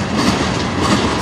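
BNSF C44-9W locomotive hauling a manifest freight train with auto racks past on the Strathroy Sub, a loud, close, continuous rumble of rolling wagons and clattering wheels, no speech.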